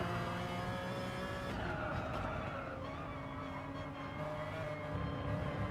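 A McLaren race car engine roars loudly and continuously in an auto racing event, its pitch shifting as it revs, with some tyre squeal mixed in and no talking.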